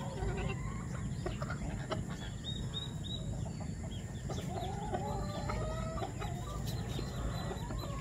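A rooster crows amid a busy farmyard with hens and pigs, clucking and other animal calls over steady background noise.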